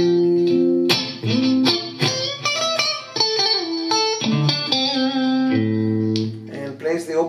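An electric guitar plays a melody, clean, ringing single notes and slides with a chorus-like shimmer, sustained phrases picked one after another, close and clear.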